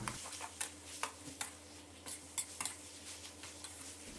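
Chopped tomatoes being stir-fried in a pan, quiet with sharp intermittent clicks and scrapes of a utensil against the pan at an irregular rhythm over a soft background.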